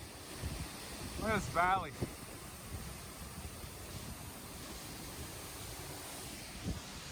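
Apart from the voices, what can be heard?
wind blowing into the microphone near a waterfall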